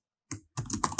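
Quick clicks of a computer keyboard, a single tap followed by a rapid flurry of keystrokes, close and fairly quiet.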